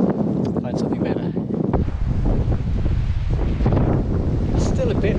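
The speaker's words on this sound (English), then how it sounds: "It's still a bit windy down here, but it is a lot less windy." Strong wind gusting down a valley in Cumbria, roaring and buffeting the microphone as a steady, loud rush with low rumbling, while someone talks over it.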